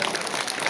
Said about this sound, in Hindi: तो जोरदार तालियों के द्वारा स्वागत और अभिनंदन।